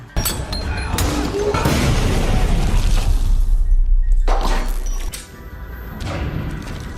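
In a film action scene, a grenade thrown at gangsters by a lift goes off in a loud crashing blast with shattering debris, rumbling and clattering for several seconds before a quieter stretch and a second burst of noise.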